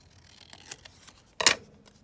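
Scissors snip through paper scraps for a tile collage, a light cut followed by a sharper, louder snip close by in a quiet room.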